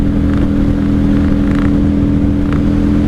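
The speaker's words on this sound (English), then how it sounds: "This V-twin sounds amazing." A 1995 Honda Shadow VLX 600 V-twin motorcycle engine rumbles steadily while riding, with a loud, continuous, deep throbbing drone close to the listener.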